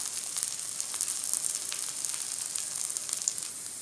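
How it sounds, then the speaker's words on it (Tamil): Plantain slices fry on a hot griddle for a Tamil-style vegetarian fried plantain dish, giving a steady, close crackling sizzle throughout with no talking. "வாழைக்கெல்லாம் கல்லில் வச்சாச்சு இப்போ வந்து ஒரு சைடு நல்லா வெந்து வரட்டும்"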